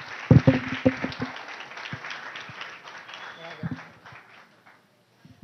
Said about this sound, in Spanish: Señores, démosle un fuerte aplauso al señor Javier Sade.